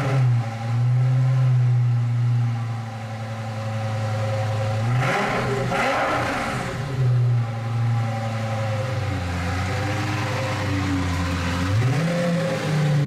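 A Lamborghini Gallardo with a fault, its engine droning steadily while driving, with pitch rising and falling through gear changes and a couple of brief surges, heard from inside the car.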